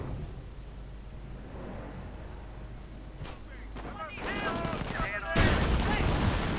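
Gunfire from a WWII strategy game: a 17-pounder anti-tank gun firing amid infantry combat, with scattered shots and bursts building to a loud, dense volley near the end, under a commentator's voice.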